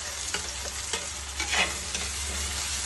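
Ground tomato paste with ginger and chilli frying in a pan after onions, giving a steady close sizzle with a few soft stirring scrapes, alone and without talk.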